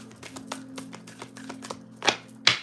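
A deck of tarot cards being shuffled in quick, light riffling taps, a rapid patter of card edges that ends with two louder slaps, heard close and alone.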